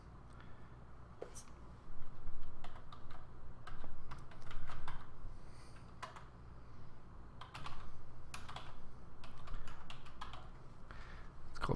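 Steady typing on a computer keyboard while entering an item title in a home inventory app, with close, rapid key clicks in bursts and a voice speaking faintly underneath.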